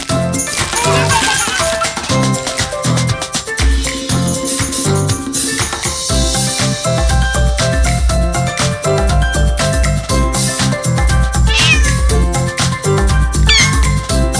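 Cat meowing repeatedly amid a busy, loud mix of bright tinkling, jingling sounds and steady rhythmic tones, the meows recurring throughout.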